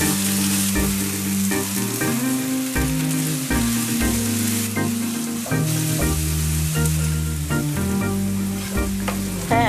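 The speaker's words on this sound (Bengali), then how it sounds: "আমি এটা কিছুক্ষণ ভাজবো, হালকা একটু ব্রাউন করে আসলে তখন আমি মশলাগুলো দিয়ে দেবো" About three chopped onions frying in a pan, a continuous close sizzle with stirring scrapes and clatter, while a steady tonal drone hums underneath throughout.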